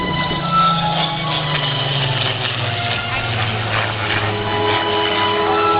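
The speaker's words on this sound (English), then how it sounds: "Listen to this engine." An aircraft engine at the 2012 Atlantic City Airshow drones loudly and steadily, its pitch sliding slowly lower as the plane passes.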